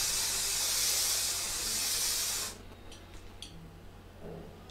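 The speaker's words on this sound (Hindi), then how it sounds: "इस तरह से थोड़ा इसको टिल्टेड रख के थोड़ा ऊपर से ऐसे इसको स्प्रे कर लेना है" Fixative spray hisses steadily onto a pencil sketch for about two and a half seconds, a loud close aerosol burst that then cuts off, leaving faint room noise and a few light clicks.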